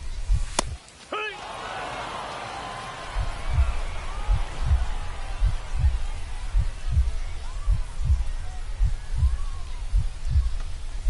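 A low, thumping heartbeat sound effect in the baseball video game MLB The Show 25 pulses in a steady rhythm over a soft background bed after a few sharp clicks, with no talking.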